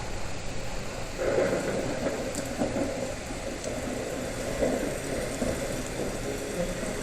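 Steady rain hisses throughout, with a low rumble of thunder underneath that swells slightly after the first second; no voices.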